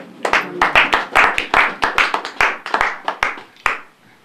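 A congregation at a funeral service claps in a steady, rhythmic beat of close, sharp hand claps that continues for several seconds before trailing off.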